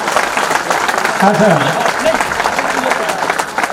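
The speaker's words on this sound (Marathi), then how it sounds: "टाळ्या वाजवा, टाळ्या." An audience claps at a felicitation ceremony during a get-together, a dense patter of applause running under someone speaking over a loudspeaker.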